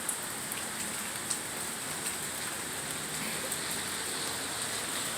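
Steady rain pours down outdoors in a rainstorm, a dense even hiss of drops hitting surfaces with a few slightly louder patters, moderately faint and continuous.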